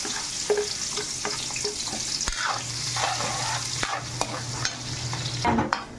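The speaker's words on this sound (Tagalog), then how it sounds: "mag-gisa na tayo ng bawang at sibuyas" Garlic and onion sautéing in hot oil for pancit sotanghon guisado, a steady close sizzle with occasional stirring scrapes and a low hum running underneath.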